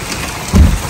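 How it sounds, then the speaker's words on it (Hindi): Dense, hissing rainfall pours steadily on a street in Makkah, with a low thud-like rumble swelling briefly in the middle. "बारिश तेज हो रही है"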